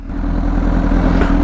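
A Honda CBR 1000RR SC57 sport motorcycle engine just after starting, idling close and loud with a steady low throbbing rumble and slight unevenness.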